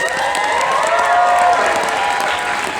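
A large convention audience at Sakura Con 2019 applauding steadily, a loud, dense wash of clapping with scattered cheers that holds throughout.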